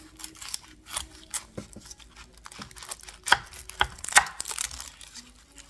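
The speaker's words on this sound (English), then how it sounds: "here's our onion. Okay, let's go ahead and cut it in half." A knife slices an onion in half on a wooden Biltmore cutting board, giving a few sharp, close knocks and crisp crunches spaced irregularly against near silence.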